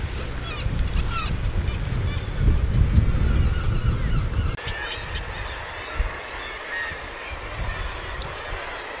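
A colony of kittiwakes, medium-sized gulls, calls from the sea cliffs at Fowlsheugh in Scotland, with a dense chorus of overlapping cries over the wash of surf and wind, strongest early and continuing more thinly afterward.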